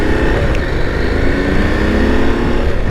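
KTM 890 Adventure and KTM 390 Adventure motorcycles ride along Utah mountain roads, their engines a loud continuous droning roar mixed with wind rush close to the microphone.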